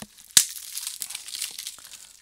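A Blu-ray case for the film Come Play has its plastic wrap stripped off: one sharp tearing rip, then a steady stream of close crinkling and crackling, with no talking.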